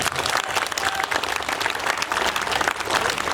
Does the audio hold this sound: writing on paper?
no